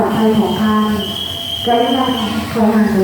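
Thai local passenger train number 463, running from Phatthalung to Sungai Kolok, rumbles close by with a loud, steady roar, tonal wheel or brake squeal and a high whine, while someone talks over it.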